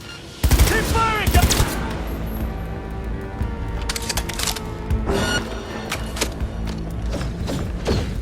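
Cyberpunk 2077 gunfire erupts in sharp repeated bursts, a heavy volley near the start followed by scattered shots and mechanical clatter, with shouting voices mixed into the combat.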